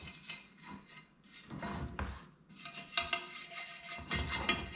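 Steady rasping scrub strokes on a 1955 Chevy engine part, uneven back-and-forth rubbing with brief pauses, close and fairly quiet, no talking.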